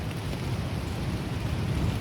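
Dense, steady rain mixed with low rumbling wind buffeting and massive gusts beside the ocean, with waves thumping on the shore, continuous and fairly loud throughout, with no voices.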